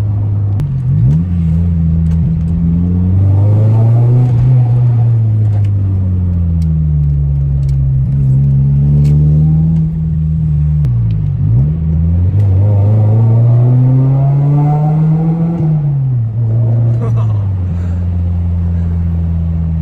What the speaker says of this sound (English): The exhaust backfires as well, like you can hear it after shifts having a little pop in the exhaust.